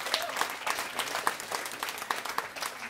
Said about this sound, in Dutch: En die krijgen een applaus.